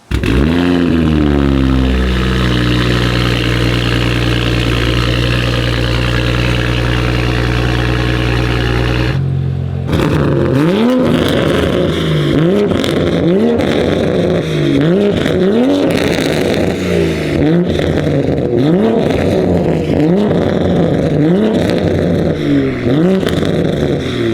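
A Toyota Supra with a single-exit 3-inch exhaust and downpipe idles loudly with a deep, droning exhaust, then revs repeatedly in rising and falling bursts, close and aggressive.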